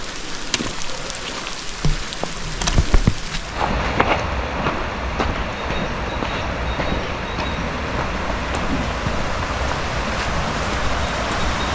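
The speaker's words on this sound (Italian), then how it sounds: "Peccato che piove" Rain falling on a canyon hiking trail near a small footbridge, a dense continuous hiss with scattered louder drops and a few low rumbles early on, steady throughout.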